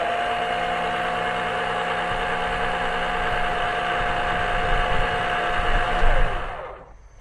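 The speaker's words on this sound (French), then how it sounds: "Donc je relance la pompe." An Ultimate Speed oil suction pump draws engine oil out through the dipstick tube during an oil change, giving a steady, loud electric hum with a thin whine that runs alone, then winds down and cuts off near the end.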